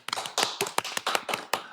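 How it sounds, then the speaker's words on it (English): Short burst of applause at a podcast opening, sharp hand claps rising and falling in a few quick waves, close and moderately loud, with no talking over it. "Round of applause"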